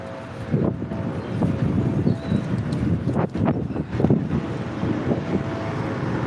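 A strong, cold gust of wind buffets the microphone outdoors near old traffic lights, roaring unevenly with rushing surges and a few sharp knocks, loud and close with no speech.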